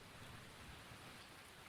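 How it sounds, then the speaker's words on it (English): Rain sound effect: a steady, even hiss of rainfall on surfaces, continuous and fairly soft, with no voices. "Where my rain at? Can I get some rain?"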